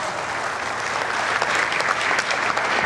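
An audience gives steady, sustained applause, a dense and even crackle of many hands clapping together at moderate distance, swelling slightly toward the end with no clear voices.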